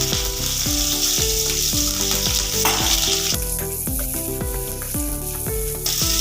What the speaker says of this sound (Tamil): இப்போ நம்ம பெரிய வெங்காயத்தை போட்டுக்கலாங்க.